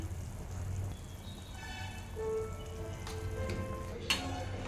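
Tomato rasam with carrot bubbles in a pot, a steady soft simmering hiss with light popping and crackle, and a few faint clinks near the end.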